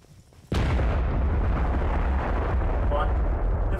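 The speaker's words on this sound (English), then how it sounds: "A huge explosion a few clicks north of your position" A huge explosion erupts suddenly in a VR video game, a loud sharp blast followed by a sustained heavy roaring rumble that continues for several seconds.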